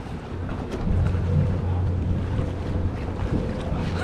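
Jet ski riding across open water near Turks and Caicos, with engine hum mixed into heavy wind buffeting and water splash, close and steady.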